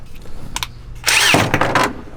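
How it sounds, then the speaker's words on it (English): A power drill bores a large hole through the firewall of a rear-wheel-drive Honda Civic project car, starting with short bursts and then a loud, sustained whine of the drill cutting through sheet metal, close up. "drill a giant hole in the firewall"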